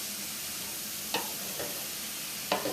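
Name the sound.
folding canned ackee into saltfish in a hot pan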